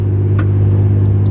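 A Ram EcoDiesel half-ton pickup truck towing a 20-foot enclosed trailer drives along with a steady, loud low engine drone and road rumble, with no one talking.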